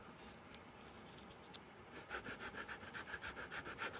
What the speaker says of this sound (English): 120, we're going to get a good sand on this.